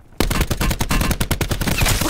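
Rapid gunfire from Call of Duty: Blackout, a dense run of loud, sharp shots firing in quick bursts that start abruptly and continue steadily without pause.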